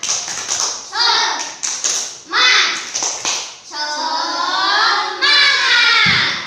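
Primary schoolchildren in a fourth-grade classroom perform a rhythmic spirit clap, bursts of unison claps alternating with group chanting in a lively patterned sequence.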